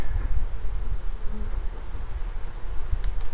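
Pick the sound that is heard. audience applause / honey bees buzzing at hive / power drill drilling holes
honey bees buzzing at hive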